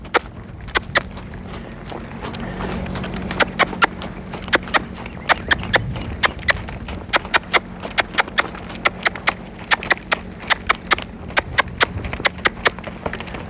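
A mare named Poppy, on her second saddling, clip-clops around a lunging ring, her hooves striking in a steady trotting and loping rhythm of sharp, close, fairly loud footfalls with no voices.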